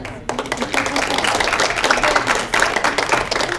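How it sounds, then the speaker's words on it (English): An audience at a leadership program event gives a round of applause, dense steady clapping from many hands close by, beginning abruptly and continuing throughout with slight swells. "can we just give Annika a round of applause for how beautiful this PowerPoint was?"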